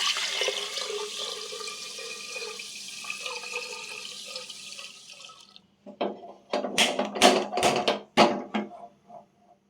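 Tap water runs steadily into a pot of washed rice for several seconds, then stops, followed by a series of close, sharp clinks and knocks of the pot being handled.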